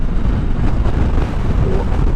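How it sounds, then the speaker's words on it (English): Loud, constant wind buffeting roars across the microphone while riding a Yamaha Tracer 9 GT+ motorcycle on a very windy day, a dense rushing noise with no pauses. "But it is a very windy day today."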